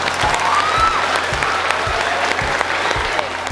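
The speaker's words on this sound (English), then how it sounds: "you should give yourselves a huge round of applause" Schoolchildren at a primary school clap together in a steady, dense round of applause that fills the room, with faint crowd noise mixed in.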